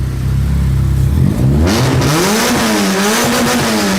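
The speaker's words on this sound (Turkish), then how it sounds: "Araba gazlayacağız." A car engine on a dynamometer revs up hard, climbing steadily in pitch to a loud, sustained high-rpm roar.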